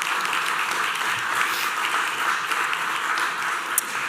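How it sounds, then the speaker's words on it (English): Steady audience applause at a conference session on digital solutions for sustainable urban logistics, a dense even wash of many hands clapping that holds at one level throughout, moderately distant. "just a last round of applause for our speakers"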